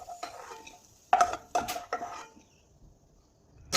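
A spoon scoops fried raisins out of hot ghee in a pan, producing a few distinct metallic scrapes and clinks against the pan in quick succession amid quiet kitchen background.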